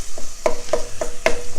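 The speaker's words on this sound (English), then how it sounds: "Just keep breaking it up. When the beef no longer runs pink," Ground beef frying in a pan while a utensil breaks it up, close sizzling under a series of sharp scraping and stirring strokes roughly every quarter second.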